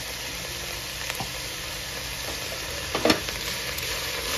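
Pav bhaji vegetables sizzling and frying in a pan while being stirred and mixed, a steady close hiss with a few brief scraping clinks of the spoon.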